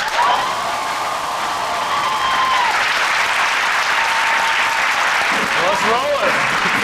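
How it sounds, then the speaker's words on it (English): A lecture-hall audience of students breaks into loud, sustained applause with cheering, a dense wash of clapping that holds steady for several seconds, with faint tonal sounds from a clip beginning to play underneath. "if you guys give us a loud applause"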